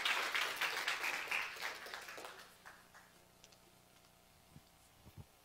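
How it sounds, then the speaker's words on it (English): An audience at a celebration event gives Ben a round of applause after his presentation. The clapping is strong at first, then thins to scattered claps and dies out within a few seconds, leaving faint room noise. "Let's give a big round of applause for Ben for giving us this presentation."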